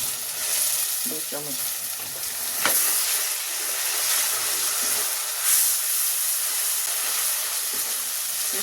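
Ginger garlic paste sizzles steadily in hot oil in a pan for a Nargis kofta dish, a continuous bright hiss with brief stirring clatters early on and one short spoken phrase.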